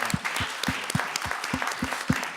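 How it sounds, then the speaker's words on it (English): Brief applause for lecturer Robert Ward after his CEIBS lecture on global outlook, with hands clapping in a fairly regular rhythm, fairly close and moderately loud. "Give a round of applause to Mr. Ward."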